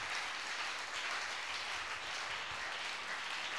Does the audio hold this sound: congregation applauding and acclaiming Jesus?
yes